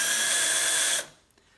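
A power drill whirs loudly and steadily while working a vintage quick release skewer, then stops abruptly, leaving a short quiet tail with a faint click.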